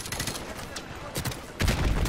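Enemy gunfire in the Modern Warfare Remastered campaign, with dense bursts of rapid shots and a heavier barrage near the end, loud and close throughout.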